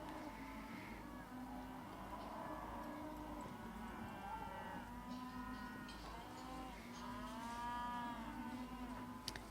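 Cattle moo repeatedly at a campdraft on the Juandah plains, drawn-out lowing calls rising and falling over steady background noise, fairly close and continuous throughout.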